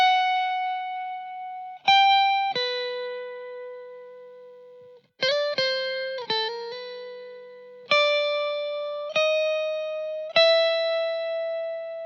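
An electric guitar plays a slow funk melody in G through effects, with a dozen or so single sustained notes and a few quick slides, each ringing out clean and close with space between them.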